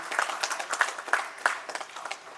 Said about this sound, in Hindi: देखिए तालियों की अब गड़गड़ाहट रुकनी नहीं चाहिए।